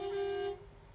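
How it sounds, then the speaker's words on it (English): A truck horn sounds in the video game American Truck Simulator. It is a single steady tonal blast, about half a second long, that cuts off abruptly. It sounds thin and not like a proper air horn. "that's supposed to be the air horn"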